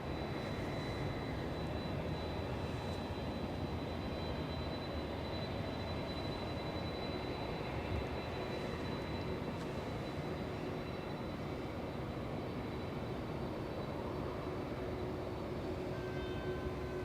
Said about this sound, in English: Aeromexico in the background lifting off